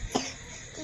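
A single short cough sounds near and fairly faint in a quiet village setting, with no talk around it.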